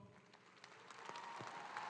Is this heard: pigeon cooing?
no